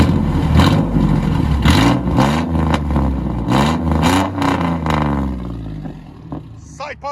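A 2004 GMC Sierra pickup with a 4.3L V6 and straight-pipe exhaust revs repeatedly, rising and falling in a loud, gruff engine roar with a person talking over it.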